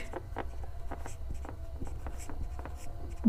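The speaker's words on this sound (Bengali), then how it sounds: "একটু নিচের দিকে লিখছি।" Pen scratching on paper while chemistry equations are written out, a steady run of short, close scratchy strokes with small pauses between words.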